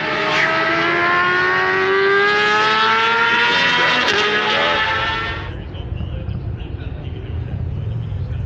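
Racing motorcycles at a professional MotoAmerica race at Road Atlanta scream loudly through a corner, high engine notes rising and sweeping past, then dropping away to a distant rumble in the last few seconds.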